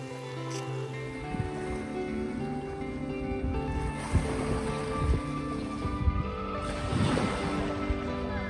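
Gentle waves washing against the Geojampo ferry pier on Yeongjongdo before sunrise, a low steady surf wash with wind rumble and soft lapping swells building toward the end.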